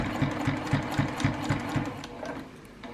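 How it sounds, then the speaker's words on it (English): A sewing machine back stitches on a reversible tote bag, running as a close, steady rhythmic whir of needle pulses that eases slightly toward the end. "I'm going to go ahead and do a little back stitching"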